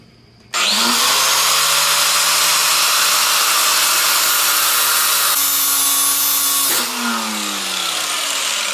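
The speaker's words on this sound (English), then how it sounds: "So now we have to cut the brake cable," A power tool cuts through a brake rod, starting abruptly with a loud, sustained high whine that dips in pitch under load and picks up again near the end.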